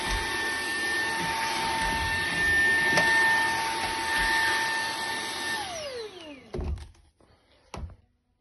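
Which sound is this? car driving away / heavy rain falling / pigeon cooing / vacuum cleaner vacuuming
vacuum cleaner vacuuming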